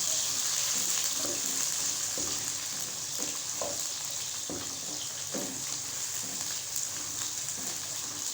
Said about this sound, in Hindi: अब हम इसमें डालेंगे 1 अदद प्याज कटा हुआ। अब हम इसको ब्राउन करेंगे।